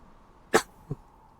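One person coughing close to the microphone: a single sharp, loud cough followed by a smaller, softer cough, both against quiet background.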